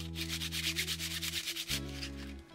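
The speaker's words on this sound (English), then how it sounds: "Hate sanding." Sanding a replacement microphone capsule part for a Stagg SDM 70 mic, a steady rasping rub repeating in quick even strokes, close and fairly quiet, over a low steady hum.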